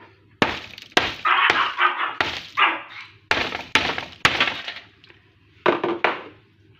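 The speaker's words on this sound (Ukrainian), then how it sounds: "Зараз я буду її розбивати, розбивати молотком." Hammer blows crack and crush the hardened salt crust on a carp baked in the oven for an hour and a half, giving a series of loud, close, crunchy impacts in an irregular rhythm with no talk.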